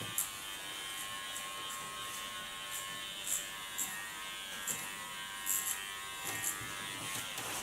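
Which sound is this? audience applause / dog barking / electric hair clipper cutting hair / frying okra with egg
electric hair clipper cutting hair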